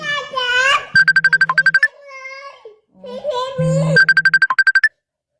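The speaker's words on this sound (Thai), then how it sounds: "ลุงวิทย์โทรศัพท์ดังอยู่ในห้องแม่แอนแม่แอนจะตื่น" A telephone rings in another room, its electronic ringtone repeating in rapid pulsing bursts while someone talks and babbles over it.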